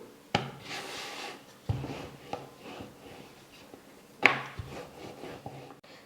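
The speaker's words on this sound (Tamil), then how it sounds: "முடிஞ்ச அளவுக்கு எவ்வளோ நல்லா மெல்லிசாக தேய்க்க முடியுமோ அந்த அளவுக்கு நல்லா மெல்லிசாக தேய்ச்சி எடுத்துக்கணும்" Wheat flour dough is rolled out thin on a surface, making soft, fairly quiet rubbing and rolling strokes with a few sharper taps as the pin or dough shifts, close by with no talk.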